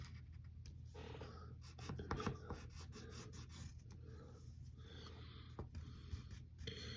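Pencil drawing lines on paper for a Scarecrow sketch, soft scratchy strokes that come and go in short runs, close and faint over a low background hum.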